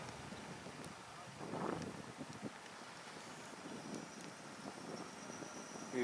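Faint wind rushes and buffets the microphone outdoors, with low gusts swelling now and then.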